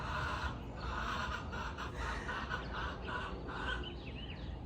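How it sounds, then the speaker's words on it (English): A hen squawks loudly and repeatedly in a backyard flock, harsh, insistent calls nearby over steady background noise. "she's the loudest chicken"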